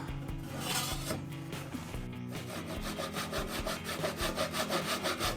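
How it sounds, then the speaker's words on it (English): Rip cut through wood with a Japanese pull saw, a steady run of rasping strokes that grows more rhythmic and evenly spaced toward the end, close and loud with no talking. "Rip cut side on the Japanese pull saw."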